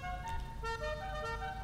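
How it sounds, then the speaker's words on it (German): Horn of a muscle car, a Voodoo in GTA V, sounding in a few short honks over a low engine idle, fairly faint. "dadurch, dass es ein Muscle-Car ist, kann ich jetzt erstmal hier eine Hupe geben."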